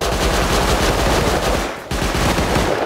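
Loud, rapid gunfire in the survival game Rust, a sustained burst of close shots with a brief gap near the end before the firing resumes, with no talk over it.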